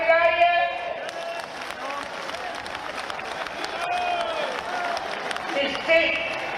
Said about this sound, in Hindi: यदि आपको अनुकूल हो चित्त ताली बजाइए।